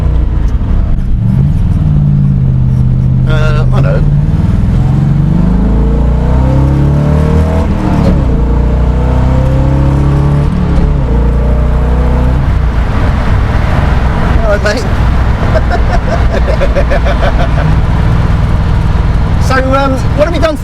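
A 1967 Chevrolet Corvette with a rebuilt V8 revs and pulls through gears while driving on British roads, a loud, close engine roar rising and falling under conversation between two men.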